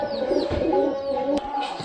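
A Giribaz pigeon coos at close range, a low, rolling murmur that runs throughout, with a brief click partway through.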